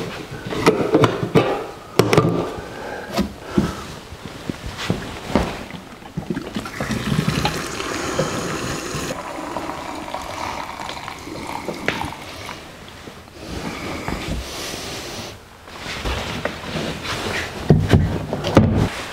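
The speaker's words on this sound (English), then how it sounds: "And now we're going to pour it into the generator." Premium gasoline mixed with stabilizer gurgles and splashes as it is poured from a can into a Honda EU3000iS generator's tank, a steady close liquid stream with small knocks and shifts, no talk.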